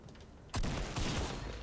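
A single sharp gunshot from a sniper rifle in the Fortnite video game, sudden and loud, followed by a short burst of dense crackling fire.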